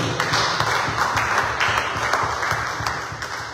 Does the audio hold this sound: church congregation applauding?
yes